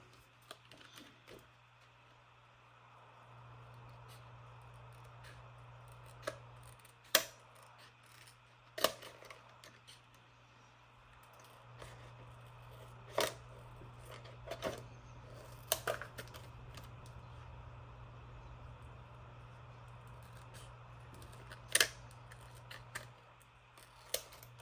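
Scissors snip through a paper savings-challenge envelope in several sharp, close cuts spread over a quiet stretch, over a low steady hum with faint handling noise.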